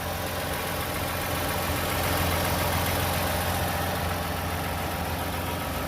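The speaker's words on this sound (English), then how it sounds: "Very quiet engine." A car bought at an insurance auto auction idles quietly, a steady, even low engine hum with a faint broadband hiss that holds unchanged throughout, with no voices.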